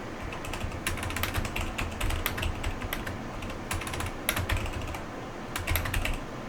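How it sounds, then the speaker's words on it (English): Typing on a computer keyboard: steady, rapid bursts of light plastic clicks and clacks with brief pauses, close and fairly quiet, with no voices. "Typing into Facebook"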